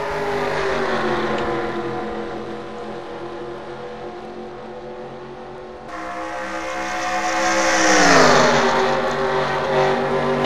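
NASCAR Nationwide Series stock cars roar through a race restart, a loud continuous engine drone whose pitch rises and bends as the pack accelerates and sweeps past close by.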